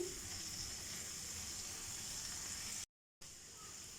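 Tomatoes frying in a pan while tawa chicken is being cooked, a faint, steady sizzle that carries on without a break apart from a short moment of total silence.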